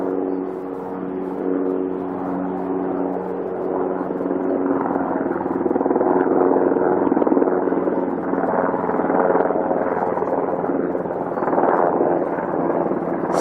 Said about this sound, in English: That is the vaunted black helicopter